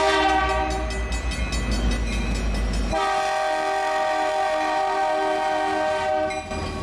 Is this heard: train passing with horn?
yes